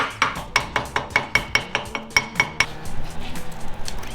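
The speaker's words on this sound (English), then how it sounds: "Didn't think you could just hit on it with a hammer and it traces it out." A series of sharp metallic hammer strikes on thin sheet metal for a rat rod wrecker build, about a dozen evenly paced ringing blows, followed by softer scraping clatter.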